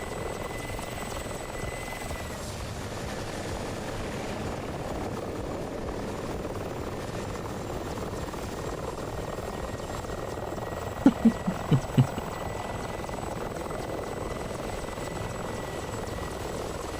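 A Mi-24 helicopter in the flight sim DCS World drones steadily with an even rotor and engine hum throughout, with a short cluster of sharp clicks partway through.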